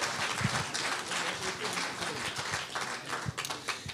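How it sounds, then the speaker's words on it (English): An audience at a braille and low vision seminar breaks into applause, a moderate, fairly even patter of clapping with a few sharper claps and murmuring voices underneath. "Round of applause for Herbert, please."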